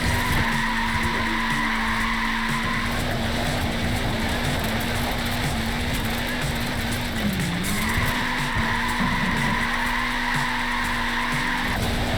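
A short-wheelbase, front-wheel-drive Lego Mini sliding in Forza Horizon 4, with a long tire squeal held over a steady engine hum and a busy layer of game sound.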